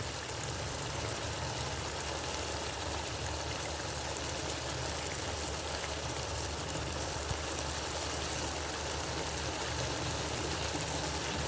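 Water pours in a steady, continuous stream into a cooking pot, a constant gushing hiss with no pauses and no voices.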